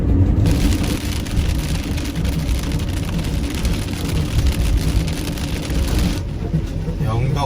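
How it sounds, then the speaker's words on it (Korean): Rain drums steadily on an Ace Camper motorhome while it travels near the Uljin and Yeongdeok coast. The loud, continuous wash of drops blends with road rumble from start to finish. "지우 비가 와."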